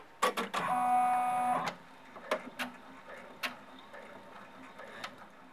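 A sewing machine runs a placement stitch line on a fabric snap-front key fob, one steady whirring burst of about a second and a half, followed by a few faint clicks and handling taps.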